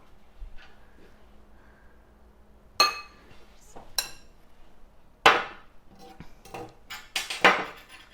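Metal spoon clinks against a baking tray and dish while ginger-spiced filling is scooped into halved baked apples, a few sharp, isolated clatters with quiet pauses between them, close and moderately loud.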